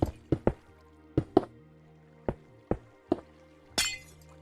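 Glass blocks are placed one after another in Minecraft, a series of about ten sharp clinking taps at irregular intervals, close and clear, ending with a brief brighter breaking-like crash.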